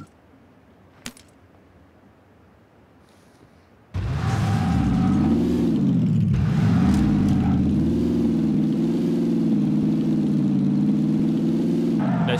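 In the PUBG video game, a car engine starts abruptly after a quiet stretch with a single click, then runs loud and steady near the listener, its pitch rising and settling.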